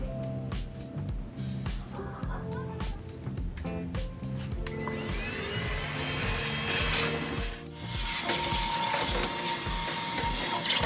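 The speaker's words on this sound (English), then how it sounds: "Could use a shop vac or some other vacuum cleaner." A steady mechanical whir with rhythmic pulsing, like a shop vac running close by and sucking up debris inside a Kenmore 500 series dryer, with no talking.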